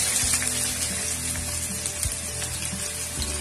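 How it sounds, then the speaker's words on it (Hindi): Finely chopped onions frying in hot oil for mutton korma give a steady, loud sizzle and crackle that fills the whole stretch without pause. "इसमें सबसे पहले मैं डालूंगी दो अनियन को जिसे हमने बारीक काट के रखा है।"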